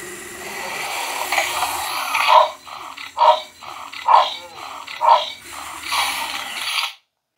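A Robosen K1 humanoid robot plays a dog action: four loud, evenly spaced synthetic barks ring out over faint whirring servo motors, then the sound cuts off abruptly.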